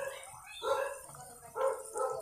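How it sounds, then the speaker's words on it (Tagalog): Dogs barking outside a house, three loud bursts of barks in quick succession, fairly close and clear with no talk over them. "Yung mga aso sa labas mga kaguro kasi siya na maingay kasi si Fluffy ata yan yung aso ni ate."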